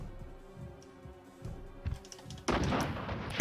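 Gunfire in a Resident Evil video game: sharp shots crack over a low rhythmic game soundtrack, ending in a loud burst of noisy blasts.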